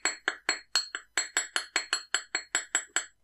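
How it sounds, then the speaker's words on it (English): A small hammer taps the wires of a wire-wrapped pendant, about fifteen sharp metallic strikes in a quick, even rhythm, close up with no talk. "just hammer those wires up to the top of the pendant"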